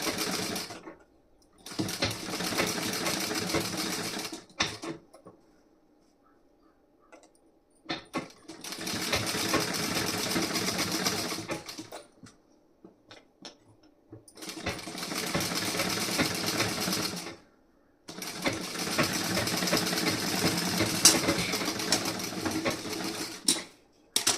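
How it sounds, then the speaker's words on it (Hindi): A sewing machine runs a basting seam through folded fabric in four long stitching bursts of a few seconds each, separated by short pauses, loud and close with no talking. "फोल्ड करने के बाद इस पर कच्ची सिलाई लगाऊंगी इस तरीके से।"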